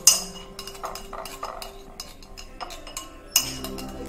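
A spoon mixes a homemade hair mask in a bowl, giving a string of close, light clinks and scraping taps at an uneven rhythm, with a few sharper knocks.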